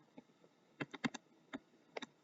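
Short plastic button presses on a handheld calculator while a trigonometry problem is entered, about ten light separate taps in an uneven rhythm, close and fairly quiet with no talking.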